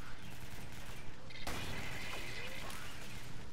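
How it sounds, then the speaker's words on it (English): Rapid gunfire in the top-down shooter Alien Swarm, a dense continuous barrage of close blasts with a sharp burst midway, amid constant game noise and faint voice chatter. "Runs out fast, a shotgun does."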